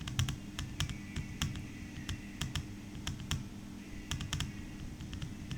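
A computer keyboard clatters with quick, uneven bursts of key taps, close and crisp, with short pauses between words.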